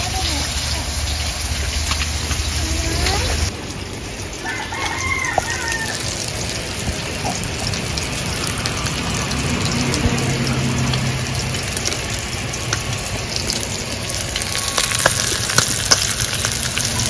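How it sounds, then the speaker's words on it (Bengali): Khoira and punti fish sizzle steadily in oil in a home kitchen, a continuous frying hiss with a rooster crowing briefly in the distance. "মাছ হয়ে গেছে ভাজা, তুলে নেব।"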